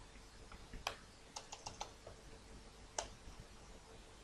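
Quiet keystrokes from VBA code being typed on a computer keyboard, a few scattered clicks in short irregular clusters with pauses between.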